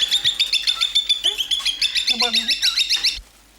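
Caged pet bird squawking and chirping in a rapid repeated series of loud, close calls that run steadily for about three seconds, then stop.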